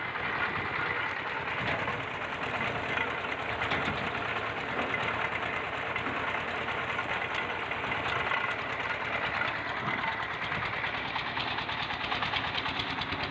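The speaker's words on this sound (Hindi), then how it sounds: "ये है डीजल इंजन, जिसे पंजाबी में पीटर इंजन कहते हैं।" A diesel engine, called a Peter engine in Punjabi, runs a cane crusher at a traditional jaggery-making site, chugging steadily and loudly with a mechanical knocking rattle throughout.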